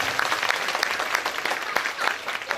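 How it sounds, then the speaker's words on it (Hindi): Brisk applause from an audience at a Hindu religious gathering during a Bhagavat Katha event, dense rapid clapping sustained for a few seconds at close range. "ये कार्यक्रम के लिए जोरदार ताली बजना चाहिए"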